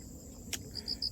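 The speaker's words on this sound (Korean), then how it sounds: "귀뚜라미도 많이 울고 점점 예, 가을로 가을로 접어 들어가서" Crickets chirping in an autumn Shine Muscat vineyard field, faint, repeated high chirps over a quiet outdoor background, with one brief louder click.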